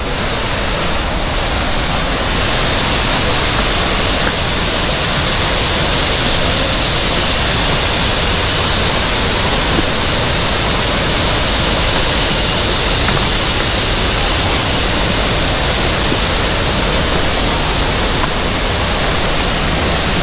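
Hulugan Falls, a tall waterfall in Laguna, roars with a steady, loud broadband rush of falling water that holds constant and unbroken throughout.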